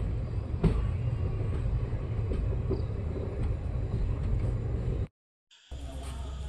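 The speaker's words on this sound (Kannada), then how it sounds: "ನಮ್ಮ ಟ್ರೈನು 7 ಗಂಟೆ 3 ನಿಮಿಷಕ್ಕೆ ಕೊಟ್ಟೂರು ರೈಲ್ವೆ ಸ್ಟೇಷನ್ಗೆ ಬಂದಿದೆ" A train halts at Kotturu railway station, giving a steady low rumble that holds evenly, cuts out briefly near the end, then resumes.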